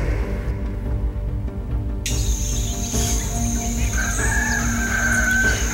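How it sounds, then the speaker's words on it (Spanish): A rooster crows in the distance at early dawn, a drawn-out call rising over steady broadband background noise, with small birds chirping faintly around it. "Un gallo madrugador cantó en la lejanía"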